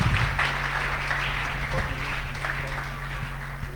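Crowd clapping at a church awards gathering, a continuous wash of applause across the whole stretch, fairly loud and even, with a low steady hum beneath.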